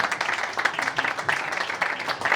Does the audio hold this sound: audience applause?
yes